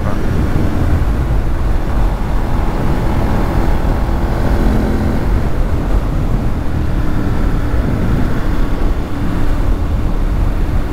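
A 2006 Ducati Monster S4RS is ridden on the road with a little throttle, its engine drone buried under loud, constant wind rush for the whole stretch.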